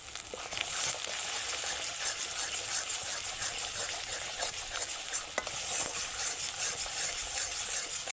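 Spices with ground garam masala stirred and frying in a pan for a Bengali chicken dish, a steady bright sizzle with scraping stirs throughout, moderately close and even.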